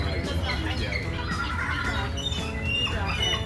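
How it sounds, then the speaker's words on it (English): Scattered squawks and cries of seagulls being fed in Washington State, overlapping amid a busy, noisy background with voices and rumble, birds fairly close. "Then I decided to feed the seagulls."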